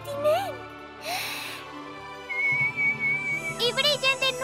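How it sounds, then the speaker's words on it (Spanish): Cartoon whistling in a children's bedtime story, several rising and falling tuneful whistles, including a long steady note and a wavering burst at the end, mixed with bright animated sound effects. "¡Cambió cuando hiciste ese silbido!"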